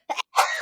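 A brief sharp burst followed by a longer, breathy explosive release, like a single sneeze up close, with no talking around it.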